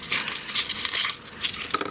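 Scissors cut through a sheet of foil from a foil kit, giving a close, crisp, crinkly rasp in short bursts over about two seconds, with no talking.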